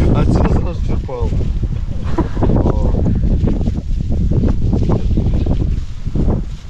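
Strong wind buffets the microphone in a steady roar at an outdoor fishing spot, with a person talking over it throughout.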